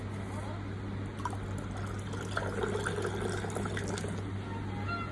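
Plain soda poured in a long stream into a freshly stirred cocktail gives a steady, close fizzing trickle that runs the whole time over a constant low hum.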